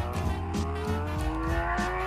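Engine of a Honda CBR motorcycle in Elite Motos 2, a steady loud drone with strong even harmonics and a rhythmic pulsing throb, close and continuous.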